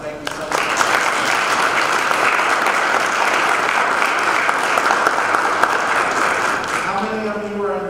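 Audience applause for a lecturer at a design and technology lecture: a dense, even round of clapping that starts after a brief pause, fills the room steadily, then gives way near the end to a voice speaking.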